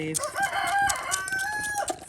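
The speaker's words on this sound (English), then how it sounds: "chickens are waiting for their dinner" Flock chickens waiting for dinner cluck and call close by in an overlapping chorus, with a drawn-out crow rising through the middle.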